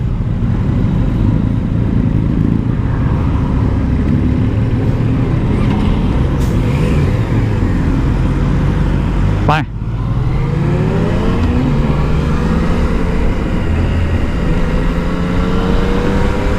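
A Yamaha Tracer 900GT motorcycle engine pulls hard in first gear, a loud, steady, close drone that rises as the bike accelerates, with a brief dip partway through before the roar resumes.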